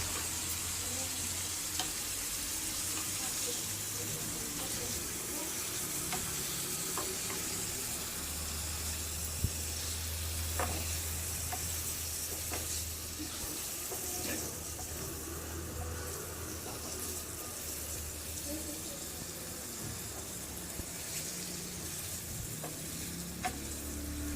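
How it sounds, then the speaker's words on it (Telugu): Paneer frying with chili powder and turmeric in a pan, a continuous close sizzle and crackle with occasional scrape and tap of a spatula, no talk. "కారం, కొద్దిగా పసుపు వేసుకొని ఒకసారి ఫ్రై చేసుకోవాలి."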